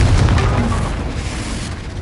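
A Confringo explosion spell fired in the Hogwarts Legacy video game: a loud booming blast up front that rolls into a long, decaying rumble of combat noise, with no voice present.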